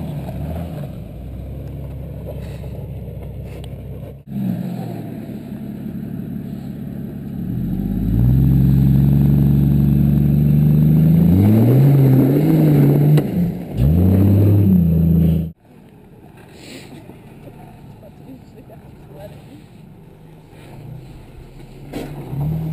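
Off-road vehicle engine at Mini Moab, held on the throttle while crawling over rocks, a loud rising rev that peaks in the middle then drops off abruptly, close by.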